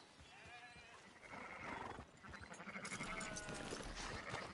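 Several sheep in a video game bleat in quick succession, wavering calls overlapping and growing louder toward the end, with no talking.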